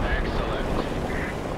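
A low, rumbling diesel engine drone from a Leopard 1 tank in War Thunder runs steadily under windy, noisy rushing, with no clear breaks, like a heavy vehicle idling nearby.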